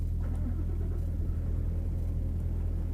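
Inside the cab, a Scania S520 V8 truck engine gives off a steady, deep rumble, a constant low drone with no change in pitch and no voices.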